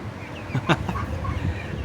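Ducks calling out of doors at a leisure park, a few short quacks and clucks close by over a busy outdoor murmur.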